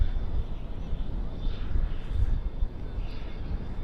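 The auxiliary power unit of an MD-11 airliner runs at Dallas/Fort Worth International Airport at night, a steady low roaring drone with a faint whine above it, continuous and moderately distant.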